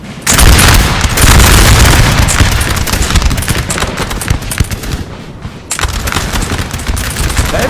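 Musket volleys in Napoleon Total War during a multiplayer battle at Teugen-Hausen, 1809, between French and Austrian lines: loud, continuous crackling massed fire with booming bursts and a brief lull before it resumes.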